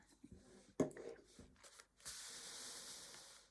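Faint handling noises and a short voice give way to a steady, airy hiss of an aerosol spray lasting about a second and a half.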